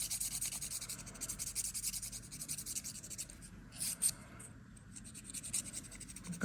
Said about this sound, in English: So I'm gonna go like this, right, with this buffer.